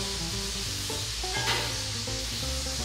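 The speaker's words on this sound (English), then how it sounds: "So the onions have been sauteing for a bit now" Onions sauteing in a pan, a steady close sizzle with soft stirring, continuous throughout with no voices.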